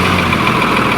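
A 24-valve inline-six engine idles steadily and close by, its low, even rumble running without a break and no voices over it.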